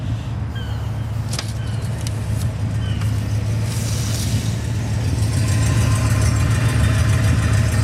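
A 1967 Cadillac Eldorado idles close by, its deep steady engine rumble and exhaust burble running continuously, with a few faint clicks early on and the sound swelling slightly louder toward the end.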